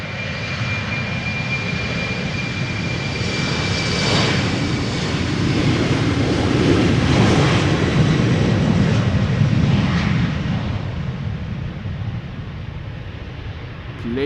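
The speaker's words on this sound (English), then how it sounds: "Next up, German Airways going to Aalborg, flying for KLM, Embraer 190." German Airways Embraer 190 jet, flying for KLM, departing Amsterdam Schiphol for Aalborg, a steady engine roar with a thin whine, building gently toward the middle and tapering near the end.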